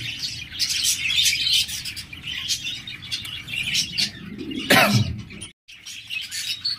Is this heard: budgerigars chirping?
yes